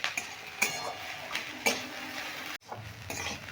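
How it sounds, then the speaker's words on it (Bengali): Onions, potatoes and poppy seeds stirred in a pan for Bengali posto, with a soft sizzle under it and several distinct clinks and scrapes of a spoon against the pan at irregular intervals, close by with no talking. "কিছুক্ষণ নেড়ে নিলাম"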